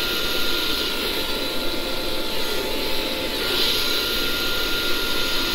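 Steady broadband rush of air blown across thick white acrylic paint during a Dutch pour, a continuous close hiss that holds evenly for several seconds with no voices.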